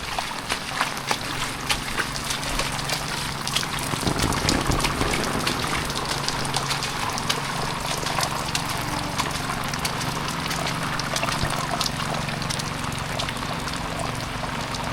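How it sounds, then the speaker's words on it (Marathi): Heavy evening rain falls on a Konkan village, a dense, continuous hiss and patter close by with brief splashing surges, steady throughout with no voices. "वातावरण बघा काय झालंय, मस्तपैकी पाऊस."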